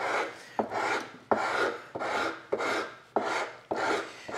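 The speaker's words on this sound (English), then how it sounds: "once I've used the coarse rasp, then I can go in with a series of finer and finer ones" A coarse woodworking rasp shapes wood in seven steady rasping strokes, each a scratchy rush that starts sharply and fades, close up with no talking.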